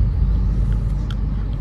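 A Maruti Fronx 1-litre turbo petrol engine with a manual gearbox runs with a low, steady rumble close by. The sound is loud and continuous, with faint higher clicks over it and no speech.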